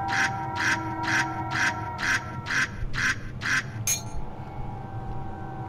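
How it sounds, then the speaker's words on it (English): A squeaky duck toy in the Dreams video game squeaks eight times in a quick, steady rhythm, then gives one final sharper squeak, heard alone over a low background hum. "Squeaky duck."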